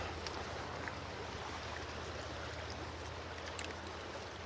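A trout creek flows in a continuous, even wash of water, steady and moderately close with no voices over it.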